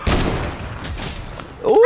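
Gunfire in the Fortnite video game, a loud sharp shot burst at the start followed by lower game noise, then another loud impact with a brief whistling tone near the end.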